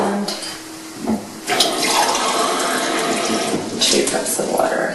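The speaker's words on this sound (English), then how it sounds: "now I'm going to put 2 cups of water." Tap water runs steadily into a pot of quinoa for cooking, a continuous splashing stream that fills the whole stretch at close range.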